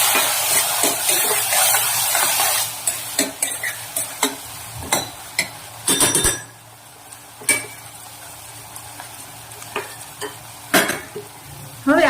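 Softened potatoes frying with turmeric for batata poha, a loud sizzle that fades after a few seconds, punctuated by sharp scrapes and clinks of a spoon stirring against the pan at irregular intervals, close up and without speech.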